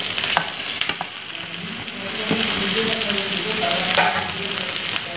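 Ripe tomatoes frying in a hot pan for shahi paneer, giving a steady close sizzle with stirring clinks and scrapes that builds slightly louder partway through.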